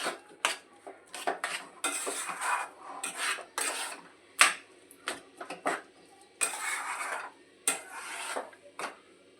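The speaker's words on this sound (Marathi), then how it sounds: "गरम कढईमध्येच आपल्याला हे चांगलं ढवून घ्यायचं आहे" Irregular scraping and clattering of a utensil against a hot metal wok, a thick peanut brittle mixture stirred in quick bursts with short pauses after the gas is turned off, close and fairly quiet.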